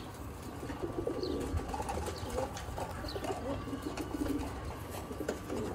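Sialkoti homing pigeons coo repeatedly at close range, soft low calls over a faint ambient hum with occasional light chirps, and no talking.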